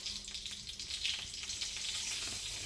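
Mustard seeds and asafoetida frying in bubbling oil over medium heat, a soft, continuous crackling sizzle with scattered tiny pops and no voices.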